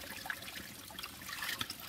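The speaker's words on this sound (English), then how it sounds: "look how quickly it fills my water bottle" Spring water gushes fast from a giant pipe into a water bottle, a faint, steady splashing and trickling rush with no talk.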